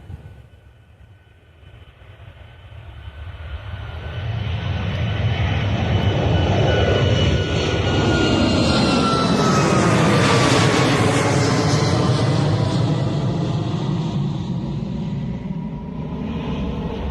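An airliner departs Bristol Airport bound for Heraklion, its engine roar climbing from a quiet start into a loud, sustained rumble with a sweeping whine that peaks mid-pass and slowly fades.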